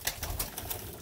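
Pigeons in a breeding box, a pair kept alone, give soft, low throaty cooing in close, repeated pulses with faint rustling.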